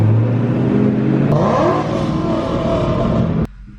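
Ford Mustang 5.0 V8 held at full throttle against a two-step limiter, a loud close steady roar with a faint rising tone before the engine cuts off abruptly near the end.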